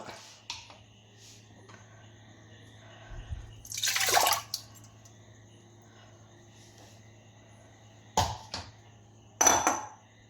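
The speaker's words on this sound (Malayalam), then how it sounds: "കുക്കറിൽ ഒരു കപ്പ് വെള്ളമൊഴിച്ച് നമുക്കിത് വേവിച്ചെടുക്കാം" Water is poured into a pressure cooker holding washed split moong dal for a payasam. One longer splashing pour is followed later by two short bursts, with quiet stretches in between.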